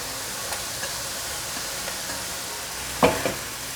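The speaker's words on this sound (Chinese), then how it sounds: "快速翻炒" Tofu skin pieces are stir-fried quickly in a wok with fresh shiitake mushrooms, sending out a steady sizzle. A few light scrapes punctuate it, and one louder clatter of the spatula sounds near the end.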